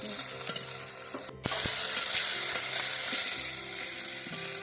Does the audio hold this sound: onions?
yes